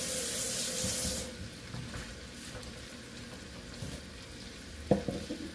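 A short pour of water splashes into a pan of frozen spinach during breakfast cooking, giving a loud rushing gush for about a second. Soft sizzling and stirring follow, ending in a sharp clink.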